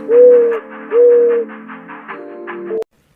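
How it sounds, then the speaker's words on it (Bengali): A dove coos in a tree in a rhythmic run of soft hooting calls, two longer swelling coos followed by shorter repeated notes, fairly close and alone before ending abruptly. "ঘয় ঘুঘু পাখি ডাকছে গাছে"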